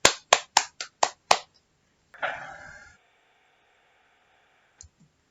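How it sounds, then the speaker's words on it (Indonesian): Six sharp, evenly spaced hand claps in a quick rhythm during a fourth-grade class lesson, followed by a short breathy rustle and then near silence. "tepuk tangan untuk kita semua"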